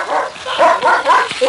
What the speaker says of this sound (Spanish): Fue entonces que el perro comenzó a ladrar.